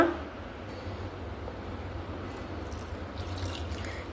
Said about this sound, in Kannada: ಇದಕ್ಕೆ ಈಗ ಸ್ವಲ್ಪ ನೀರು ಆ್ಯಡ್ ಮಾಡಿಕೊಳ್ಳುವ